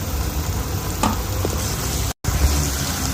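Garlic ginger paste and cumin seeds frying with lightly browned onions in oil for matar qeema, a steady close sizzle with light stirring and a brief dropout partway through.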